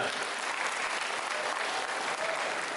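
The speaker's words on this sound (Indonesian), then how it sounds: "Tepuk tangan buat saya juga." Audience applause at a school academic-year closing gathering, a dense, even stream of many people clapping at steady volume from start to finish.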